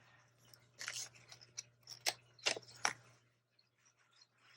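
Scissors snip through paper for a junk journal, a handful of crisp, close cuts spaced irregularly over a few seconds with a low steady hum beneath.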